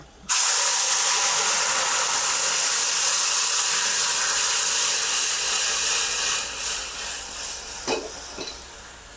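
Water poured into a hot sambar tempering with asafoetida sets off a loud, steady sizzling hiss that carries on for several seconds and fades slightly toward the end, with a faint clatter near the close.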